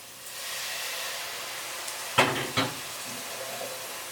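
Water poured into a hot cooking pan for a potato and carrot stew sets off a steady hiss of sizzling steam, broken by two sharp splashing bursts in the middle.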